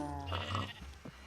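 Pigs in the Minecraft video game squeal and grunt in a short, close burst of harmonic animal calls with a low hum underneath, about two brief calls.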